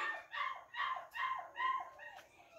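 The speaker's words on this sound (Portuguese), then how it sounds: "Os cachorrinhos tá só que chora, porque tá apartando eles da mãe" Young puppies separated from their mother whine and yelp in a quick series of five or six high, rising cries, close and clear against a quiet rural background.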